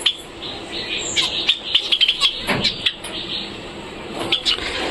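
Small caged birds newly released into a large aviary chirp and tweet in quick, bright bursts, close by, with a faint hum of passing traffic underneath.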